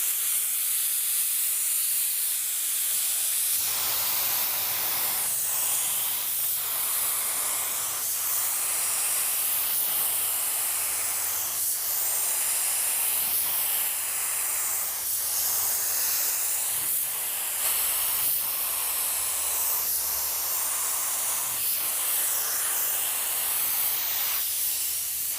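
A spray gun laying a coat of silver automotive paint, a continuous close hiss that rises and dips in regular passes for the whole stretch, with no talking.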